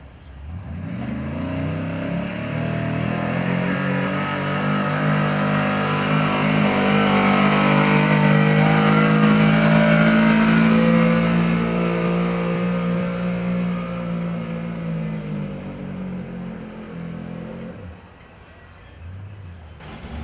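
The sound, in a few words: 9500 Pro Farm turbo tractor engine revving at tractor pull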